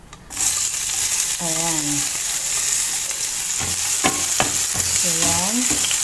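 Chopped garlic dropped into hot oil bursts into a loud, continuous sizzle that holds steady, with a few stirring clicks and short bits of speech over it.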